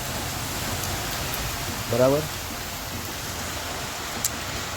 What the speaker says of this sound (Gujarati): પવન અને વરસાદ બંને જોડે જોડે ચાલુ છે